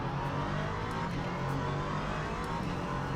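An LMP3 prototype race car engine drones steadily in the Le Mans Ultimate racing game, a continuous moderate roar with tire and track noise that holds for about three seconds, with no talk over it.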